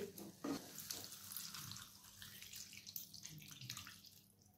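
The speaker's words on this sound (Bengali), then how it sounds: "এরপর সামান্য পরিমাণে জল দিয়ে দিচ্ছি।" A small amount of water poured into a pan of potato curry with winter peas, a soft, steady liquid splash and trickle lasting a few seconds, fairly quiet and close.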